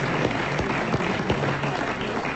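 Studio audience on a French comedy game show applauding a good answer, a steady, fairly loud wash of clapping throughout the short stretch.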